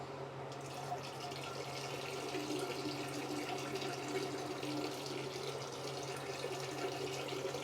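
A steady stream of urine pours into toilet water, a faint, continuous splashing trickle heard from nearby with no pauses.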